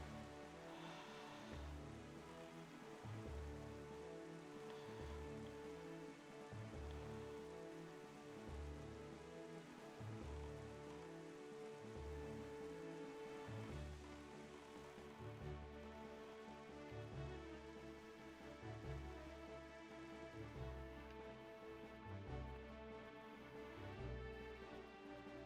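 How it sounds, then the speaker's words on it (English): Rain falls in the video game The Legend of Zelda: The Wind Waker, a steady, dense hiss of drops that continues without a break over a low, pulsing background rhythm. "Now we're getting rain."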